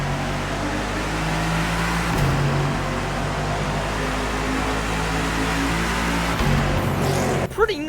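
Steady idle hum of the engine in the Lucky One Marble Edition, a fake futuristic concept car in the racing game The Crew Motorfest, an even drone with faint engine tones throughout and a brief disturbance at the end.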